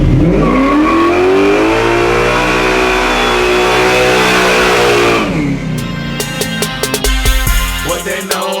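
A Buick Regal's engine rumbles loudly and steadily, then drops off into rougher, uneven revving with sharp bursts near the end.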